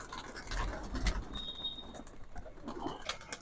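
Pigeons in a loft coo softly with low murmuring calls amid faint rustling and wing movement, fairly quiet, with no speech.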